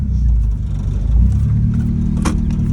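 An old minitruck with a manual gearbox and a poorly running engine, heard from inside as a low, rough rumble with uneven surges while driving.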